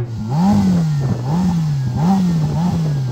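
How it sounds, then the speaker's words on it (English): Ferrari F8 turbocharged engine revved repeatedly while stationary, loud and close, with four rhythmic rises and falls in pitch and no speech. "I'm going to rev up this Ferrari, let's see what it sounds like."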